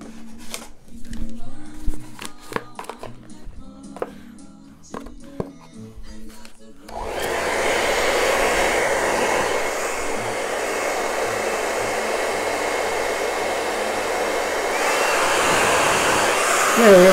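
A powerful blower kicks on partway through after some handling noises and runs steadily on high, a loud continuous rushing whoosh that swells slightly toward the end.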